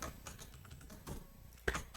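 Several quick keystrokes tap on a computer keyboard, sounding close and quiet. A sharper final key press lands near the end, and no one speaks.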